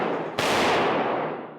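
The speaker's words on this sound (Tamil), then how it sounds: "நிச்சயமா வெடிக்காத நினைச்சுதான்ப்பா கொளுத்துனேன், ஆனா வெடிச்சிருச்சு." A firecracker goes off once, a sudden loud burst that decays into a crackling, noisy tail, with no voices.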